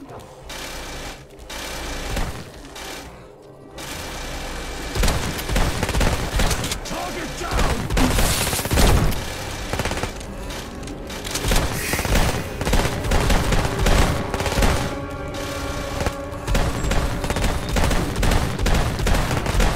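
Dense, continuous gunfire and bursting incendiary explosives from a heavy-class soldier in Red Solstice 2: Survivors, a thick unbroken barrage of rapid shots and blasts with mechanical clatter throughout.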